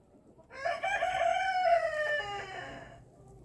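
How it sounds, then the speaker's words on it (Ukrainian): A rooster on a backyard poultry farm crows once, loud and close, a long rising-then-falling cock-a-doodle-doo lasting about two and a half seconds with no talk over it. "Півники, а ну поспівайте, давайте на камеру."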